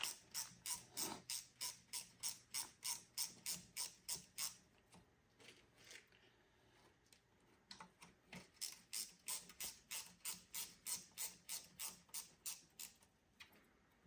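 Rapid rhythmic ratcheting clicks from bolts being undone on a Dodge Ram Cummins NV5600 six-speed transmission during teardown, in two long bursts separated by a short pause, fairly close and clear.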